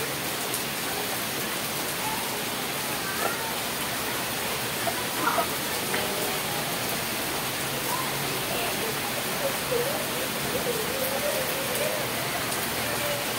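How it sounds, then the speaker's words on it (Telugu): Rain falls steadily outdoors, a continuous dense hiss of drops striking surfaces, even and close with occasional slightly louder patters and no talking. "వర్షం అలా పడుతుంది చూడండి."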